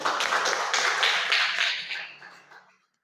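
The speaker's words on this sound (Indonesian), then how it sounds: "Oke, tepuk tangan." A classroom audience claps together after a group's performance at an Islamic lesson, a dense burst of hand claps that holds steady for about two seconds and then fades out.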